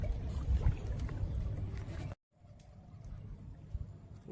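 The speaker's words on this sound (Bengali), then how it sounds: "দর্শক একটু দেখাই নদীতে কতগুলো ট্রলার এসছে।" Fishing trawlers on a river in the Sundarbans forest give a faint, distant low drone over soft water ambience, broken by a brief dropout to silence midway before the hum resumes.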